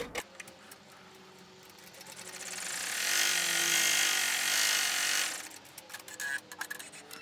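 A home embroidery machine stitches a tack-down outline on maroon vinyl for an in-the-hoop passport cover, a steady mechanical whirr building to a louder, dense buzz midway and then easing off into lighter clicks and taps.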